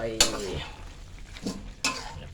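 A metal spatula scrapes and clinks against a pan as kale is stir-fried with crispy pork; a few distinct scraping strokes sound over a faint, steady sizzle.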